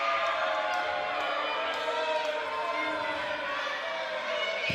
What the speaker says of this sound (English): The crowd telling Bryce Hansen what they think of this new attitude of his